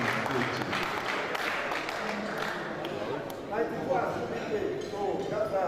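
A round of applause at a school's 103rd anniversary fundraising event, clapping mixed with an announcer's voice and crowd murmur, moderately loud and continuous.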